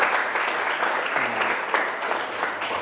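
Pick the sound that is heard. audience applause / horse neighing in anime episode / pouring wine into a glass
audience applause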